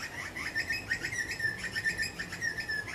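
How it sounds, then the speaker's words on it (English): A bird chirps continuously nearby in Australia, a rapid repeated high twittering that runs steadily throughout, loud and alone without any talk. "the bird's telling me to shut up"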